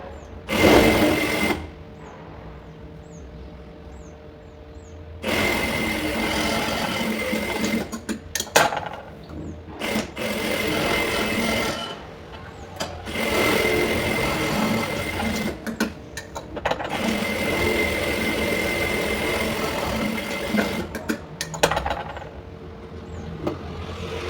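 A sewing machine runs in long sustained bursts while stitching a blouse lining, steady whirring runs separated by short pauses, close and loud with no talking.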